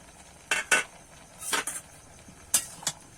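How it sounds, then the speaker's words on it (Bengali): Bottle gourd and potato pieces stirred in a pan, a few sharp scraping clatters of a utensil against metal in short bursts over a faint low sizzle, close up with no voices. "এবারে একটু নেড়ে চেড়ে নেবো"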